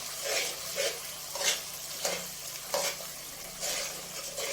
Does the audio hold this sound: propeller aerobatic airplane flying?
no